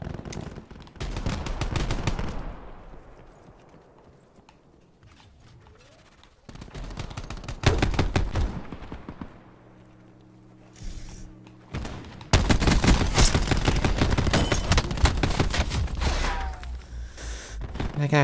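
Light machine gun fire from a VKM in Call of Duty Black Ops 4 Heist mode, loud bursts of rapid automatic shots in several long strings separated by quieter gaps, with a brief droning tone in between.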